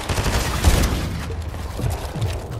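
Rapid bursts of gunfire from the video game Fortnite during a squads cup match, a clustered volley of shots followed by scattered single reports, fairly close and loud.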